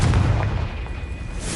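A Confringo spell blast from the Hogwarts Legacy video game bursts out as a short, booming explosive hit. A rumbling tail and a thin ringing tone follow, with no voices.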